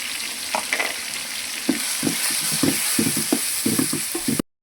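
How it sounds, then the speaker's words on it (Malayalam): Tomatoes with chilli, coriander and turmeric powders frying in oil: a constant close hiss of sizzling with repeated soft knocks and scrapes of stirring, no talking. "ഇത് നമ്മൾ ഈ എണ്ണയിലിട്ട് നല്ല വണക്കുക"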